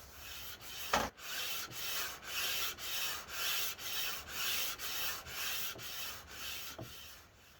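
Hand sanding carved oak with 240 grit sandpaper: steady rhythmic back-and-forth rasping strokes, about two per second, close and continuous, with a couple of sharp knocks, no talking.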